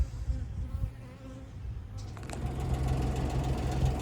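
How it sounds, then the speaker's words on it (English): A steady, dense buzzing of many honeybees at the hive fills the air, swelling louder partway through and continuing close by without pause. "I did not cause a swarm to commence by getting in there messing with the bees."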